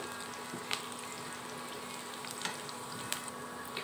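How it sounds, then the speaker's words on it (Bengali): Onions fry quietly in a pan, giving a faint steady sizzle with a few soft clicks and pops, heard close without any talking. "পেঁয়াজটা কিন্তু ভাজা প্রায় হয়ে গেছে, তো আর একটু ভাজবো।"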